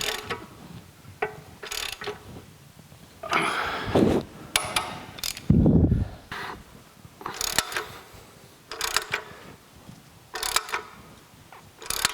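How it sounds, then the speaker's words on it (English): Gear mechanism of a Cincinnati Bickford drill press table-raising assembly turning, giving close, uneven metallic clicks, ratcheting and grinding in repeated bursts with a few louder thumps. "that is mounted in there, and the gear's turning"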